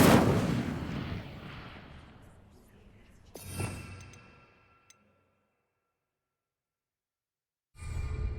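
A fire spell cast in the video game Hogwarts Legacy: a sudden burst around the midpoint, trailing into a brief roar. It sits among other game noise and voice-like sounds, then falls to near silence before another burst at the end.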